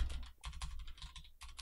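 Quick bursts of keyboard typing up close, clattering keystrokes with a short pause in the middle.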